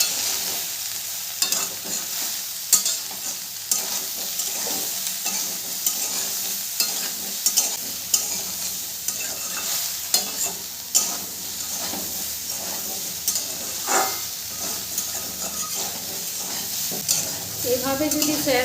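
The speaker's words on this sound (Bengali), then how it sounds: "এইভাবে যদি সয়াবিন আলুটা ভালো করে ভেজে নেওয়া যায়" Soybean chunks and potatoes with turmeric and salt frying in a pan, a continuous close sizzle broken by repeated scraping strokes of a spatula stirring the pieces, with no talk.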